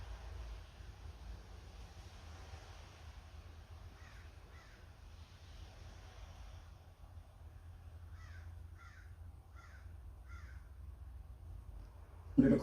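A crow caws in two separate bursts of repeated calls, distant and faint against quiet wind noise.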